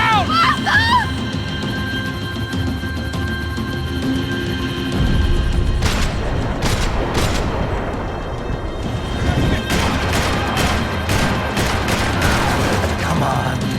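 Gunfire in the Max Payne 3 video game: a dense fusillade of loud, sharp shots and crashing impacts in repeated bursts, with vehicle and action noise underneath and shouting voices in the scene.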